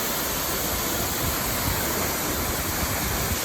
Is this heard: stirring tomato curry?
no